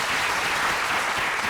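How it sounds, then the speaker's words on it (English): Dense, steady applause from a crowd at a proclamation ceremony fills the whole moment, many hands clapping at once without pauses. "give a round of applause to everyone that's standing"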